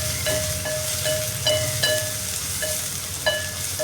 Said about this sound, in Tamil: இப்போது வெங்காயம் நல்லா வதங்கி வந்துட்டுருக்கு.